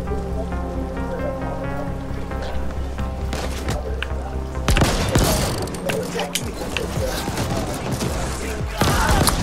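Dense rapid gunfire from guns in the twin-stick shooter The Ascent, crackling bursts that grow heavier after the midpoint, over a steady game soundtrack and effects.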